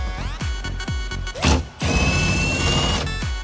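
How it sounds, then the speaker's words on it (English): A socket wrench loosens the long grab rail bolt on a jet ski, with repeated metallic ratcheting clicks and a clattering knock, close and alone. "you need a 10 millimeter socket and a deep socket because it's got a long bolt on the back"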